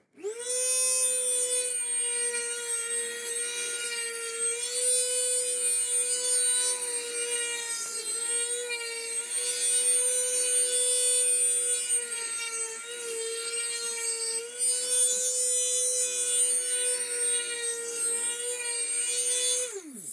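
A router cuts a rosette channel into a wooden guitar top, a steady high whine with a shifting tone as the bit moves around the circle, loud and continuous with no talk.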